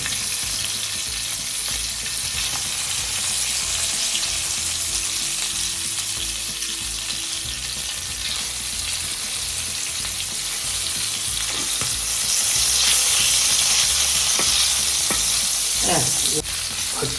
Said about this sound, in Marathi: आपण मासा पलटतोय अशा प्रकारे त्याला तेलातच पलटून घ्यायचा